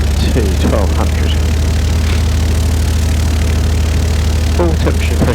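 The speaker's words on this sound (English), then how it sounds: "So setting the RPM to 1200." Light aircraft engine in a flight simulator, set to 1200 RPM, giving a loud, steady, low droning hum throughout with someone speaking over it.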